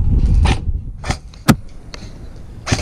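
Airsoft guns firing during a Counter-Strike style game in Veckring, several sharp separate snaps spread out over a few seconds, one louder crack in the middle, no talk.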